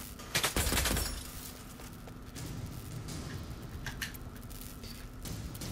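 A short burst of gunfire in Necromunda: Underhive Wars (2020) rattles out close and loud near the start, then fades into quieter scattered game sounds and faint clatter.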